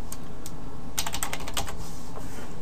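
Typing on a computer keyboard while coding an HTML page: a run of light, quick key clicks, denser in the middle, close and alone with no talk.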